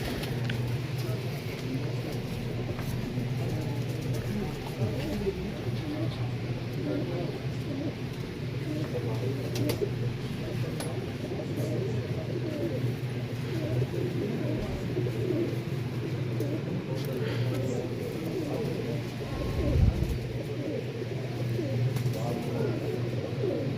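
White pigeons of a champion breeding line coo softly and continuously in a loft, with low murmuring calls throughout and faint background noise, occasionally under a voice.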